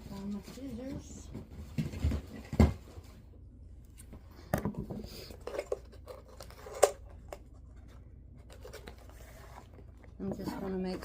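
Several sharp snipping cuts of scissors through ribbon, spaced irregularly, with soft rustling handling sounds between them and no talking.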